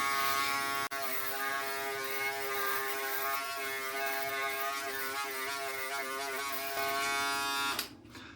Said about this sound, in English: But let's get shaving, and I'll tell you what I think. It's kind of noisy,